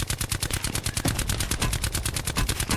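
Rapid automatic gunfire from shooting in a video game with an SAUG-class weapon, a fast, even burst of sharp cracks, roughly ten shots per second, continuing loud and unbroken for nearly three seconds.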